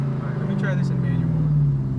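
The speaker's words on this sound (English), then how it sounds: "that's where it hits the rev limiter" A car engine held at high revs against the rev limiter, a loud droning buzz with a steady pitch, with people talking over it inside the car.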